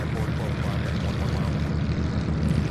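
A Delta airliner at Louisville International Airport sends a steady, broad engine roar that holds even through the clip, with a low rumble underneath.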